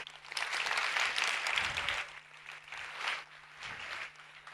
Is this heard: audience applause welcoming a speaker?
yes